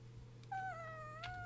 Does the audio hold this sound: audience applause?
no